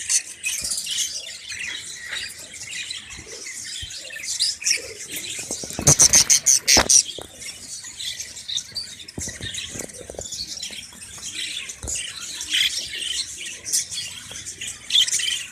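Budgies (parakeets) in a nest box with chicks give soft chirps, squawks and scratchy peeps at close range, including a brief burst of sharper calls partway through.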